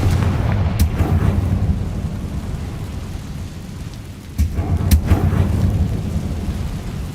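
Booming Confringo spell blasts in Hogwarts Legacy, two deep rumbling explosions about four seconds apart over a loud continuous low roar, with no talking.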